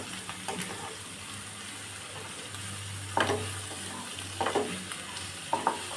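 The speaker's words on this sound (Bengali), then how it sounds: "দিয়ে দিচ্ছি চাইনিজ পাতা আর হচ্ছে ডিম এখন আমি মিক্স মিক্স করবো" Fried rice with Chinese cabbage and egg being stirred and mixed in a pan, with a steady low sizzle and occasional louder scraping strokes of the spoon near the end.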